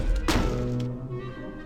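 A single heavy thud from the Depulso spell in Harry Potter and the Order of the Phoenix on PS3 lands close and loud, then fades into a sustained tonal ring.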